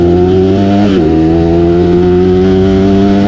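A Bajaj Pulsar NS200 motorcycle engine on a night ride, loud and close, with a strong harmonic drone that dips briefly in pitch as if shifting, then settles into a steady rev.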